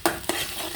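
Curry leaves dropped into hot oil in a pan for tempering, giving a short crackling sizzle with two quick bursts of stirring or scraping, close and fairly loud.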